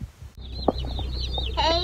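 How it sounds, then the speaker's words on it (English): Newly arrived meat chicks in a shipping box on a homestead: high, thin chirps and peeps that are rapid and overlapping, with a brief low voice near the start and a denser burst of cheeping at the end. "you can just straight hear these chicks chirping in the background"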